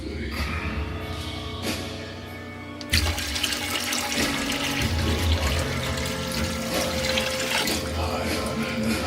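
Water runs steadily and loudly into a container of pork brine with curing salt for several seconds, a continuous rushing pour close to the listener with no pauses.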